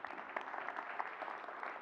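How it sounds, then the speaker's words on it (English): Brief applause from a keynote audience at a developer conference, a dense steady patter of many hands clapping throughout. "Give yourselves a round of applause."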